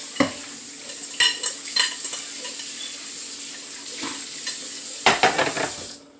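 A pineapple, honey and brown sugar glaze cooks slowly in a pan over low to medium heat, giving a soft continuous sizzle with scattered clinks and scrapes of a utensil stirring, ending abruptly.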